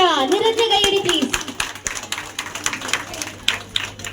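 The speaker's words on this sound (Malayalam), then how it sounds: "നിറഞ്ഞ കൈയടി പ്ലീസ്" A crowd at a prize ceremony applauds the first-prize winner with brisk, uneven clapping that starts after a brief voice and carries on steadily to the end.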